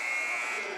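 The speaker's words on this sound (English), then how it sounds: "And buzzer sounds at the halftime" A basketball arena buzzer blares for halftime at a boys' high school game, one loud sustained electronic tone that holds steady then begins to fade.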